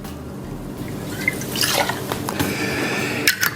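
Vanilla vodka is poured for a cocktail, a brief close liquid trickle with drips and a couple of light clinks, short and fairly quiet.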